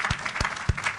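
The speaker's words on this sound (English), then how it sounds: "we'd like to give her a big round of applause" A round of applause at a city council meeting, steady clapping from the audience with a few louder claps standing out, about a second long with no talk.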